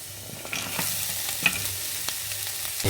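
Bitter gourd pieces frying in oil with green chilies and onion, a soft, even sizzle punctuated by irregular light clicks and scrapes of a stirring utensil, heard up close with no talking.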